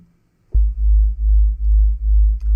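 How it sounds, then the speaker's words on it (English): Deep synthesizer sub bass sine tone from unison oscillators for drum and bass, a loud steady low hum that swells and dips in a regular slow pulse after a quiet start. "We've got these two different tones and cycles playing"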